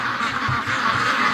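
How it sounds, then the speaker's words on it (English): A flock of free-range ducks near a lake quacks in a dense, continuous morning chorus. The quacks overlap loudly and steadily with no pauses, and no one speaks. "The ducks are going crazy right now."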